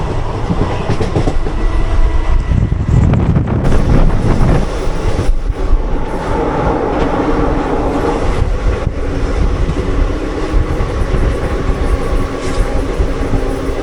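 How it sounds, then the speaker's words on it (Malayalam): The Mysuru Kachiguda Express rushes past close by, loud and continuous, its wheels giving a rattling clickety-clack over the rails with a heavy rumble that holds for the whole stretch. "കാച്ചിഗൂഡ എക്സ്പ്രസ് ആയിരുന്നു, മൈസൂർ കാച്ചിഗൂഡ എക്സ്പ്രസ്."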